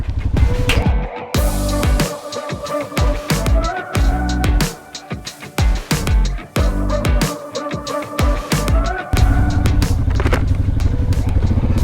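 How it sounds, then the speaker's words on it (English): A Honda Rubicon 520 Deluxe ATV churns through deep mud, its engine revving up and down in loud surges with splashing, cracking bursts and brief lulls, close by. "the 4-man Rubicon 520 Deluxe. Let's go and test this out in pretty deep mud and muck and everything."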